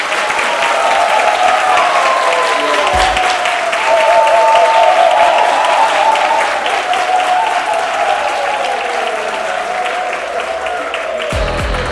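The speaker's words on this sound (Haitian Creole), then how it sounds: "Je vous demande de l'applaudir, s'il vous plaît." A crowd applauds a juggler stepping up onto a podium at a neighbourhood youth event; dense, loud clapping holds steady for about twelve seconds before thinning out at the end.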